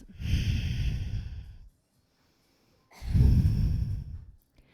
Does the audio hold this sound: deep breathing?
yes